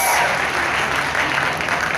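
A crowd applauds at a meet-and-greet in Lisbon, a thick, continuous burst of clapping close by, fading slightly toward the end.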